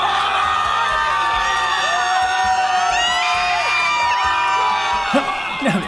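A group of people shout together all at once to surprise someone at a party in Cannes, a loud, sustained burst of yelling and whooping voices that lasts the whole six seconds.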